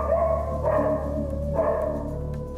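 A dog barks and complains with a fairly deep, plaintive cry during a firefighters' animal rescue, the animal restrained with a lasso; a few drawn-out calls rise over a steady low background hum.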